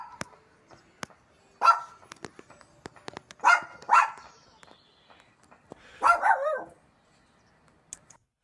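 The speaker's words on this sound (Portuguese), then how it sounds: "Dá para ouvir o cachorrinho latindo" A small dog barks in short bursts, a few sharp yaps heard clearly against a quiet background, with faint clicks and knocks in between, during a distant factory explosion near Moscow.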